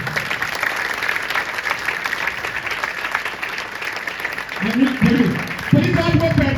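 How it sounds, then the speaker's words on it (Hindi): A crowd at a gathering applauds for a woman being honored, a steady wash of clapping across the room, joined near the end by a voice speaking over it. "मैं उनके लिए तालियां चाहूंगा"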